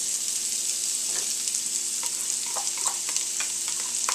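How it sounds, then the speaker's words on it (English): Onions sizzling in rendered pancetta fat in a pan over medium heat, a steady bright frying hiss throughout with occasional soft crackles and pops, close and continuous. "We're going to add our onions."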